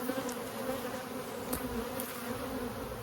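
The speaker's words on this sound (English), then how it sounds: "We have a lot of bees in this hive, y'all." Honey bees hum densely inside a crowded, booming hive, a steady close drone with a few individual bees buzzing louder as they pass nearby.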